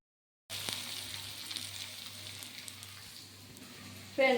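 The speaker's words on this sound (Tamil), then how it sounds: "அதனால தான் நான் எண்ணெய் கூட போட்டு வதக்கிடுவேன்" Quail pieces sautéing in hot oil in a home kitchen, a steady close sizzle with a low hum beneath, running alone after a brief silence and ending in a sharp louder burst.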